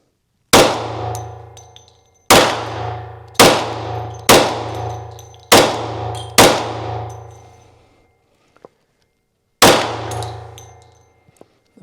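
Smith & Wesson M&P FPC 10mm carbine firing: six sharp shots in an uneven string, then a pause and one more, each loud crack ringing out with a metallic decay outdoors.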